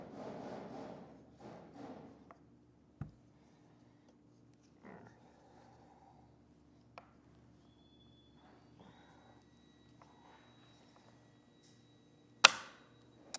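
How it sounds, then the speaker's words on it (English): A Rhino-Rack torque tool tightening an RX200 leg onto a Vortex crossbar gives one sharp, loud pop near the end when it reaches spec, after scattered quieter clicks and knocks. "as soon as I get it tight enough, we're going to hear a good, loud, audible pop"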